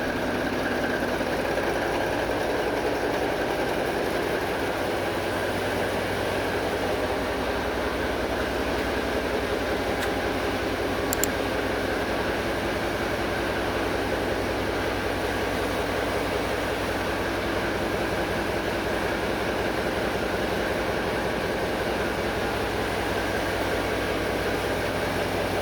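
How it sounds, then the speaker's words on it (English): A ship's large main diesel engine runs steadily with a constant low throbbing rumble and mechanical hum, loud and unbroken throughout. "Okay, so she's all started up good. We got good oil pressure."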